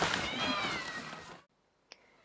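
Stray cats at a Myanmar monastery meow amid a dense bed of noise, the cries sounding close, then everything drops away to near silence before a brief faint chirp.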